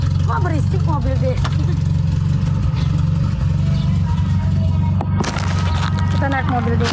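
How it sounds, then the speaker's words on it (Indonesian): A steady, loud car engine drones and rumbles from inside the moving vehicle, continuous throughout, while people chat over it. "Wah berisik mobil deh."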